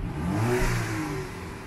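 A Ford Mustang engine revs through an ORD aftermarket exhaust beside a road, one loud sustained rise and fall of deep, rumbling tone heard up close with no talk.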